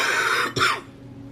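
A woman coughs once, a single close, loud, harsh cough that cuts through a soft background hum and then fades away.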